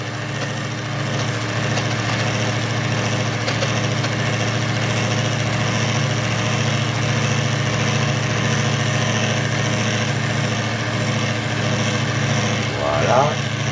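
An electric mixer whisking mayonnaise at higher speed gives a steady, loud motorized whir that holds evenly throughout, with a brief bump near the end and no pauses.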